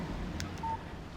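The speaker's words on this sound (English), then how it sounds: "Text message from Barry." A short electronic beep alert in Alan Wake marks an incoming phone text message, a brief tone over low background ambience.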